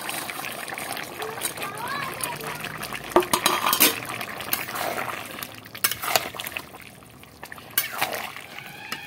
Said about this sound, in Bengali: এবার আমি এই চিংড়ি মাছগুলোকে দিয়ে দেব।